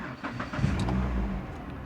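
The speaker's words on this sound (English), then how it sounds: "but I'm going to start the engine now." Chrysler PT car engine starting: a brief starter crank followed by the engine catching and settling into a steady, moderately loud idle rumble, heard close with no talk.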